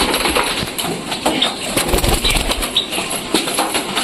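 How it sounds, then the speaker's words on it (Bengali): A flock of pigeons bursts out of their coop, loud repeated wing flaps and fluttering close by, overlapping in quick irregular bursts. "সব কবুতরগুলো বের যাচ্ছে একে একে।"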